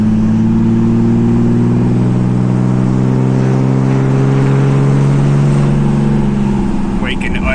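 Mercedes W124 with an OM606 diesel engine and a larger HX35 turbo idles and revs up, a loud, steady low drone lasting throughout with little variation.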